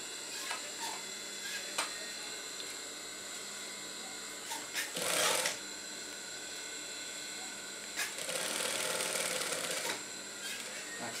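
Sewing machine stitching a gamis, a Saudi-style robe: a steady, faint mechanical whir runs throughout, with two louder, denser bursts of rapid stitching partway through.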